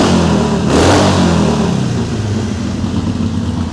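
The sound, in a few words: motorcycle engine revving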